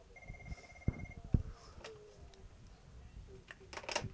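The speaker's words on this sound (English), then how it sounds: "I could call the phone in here." An IP communicator desk phone ringing indoors, with faint electronic ring tones and a few clicks and knocks, heard at a low level in a quiet room.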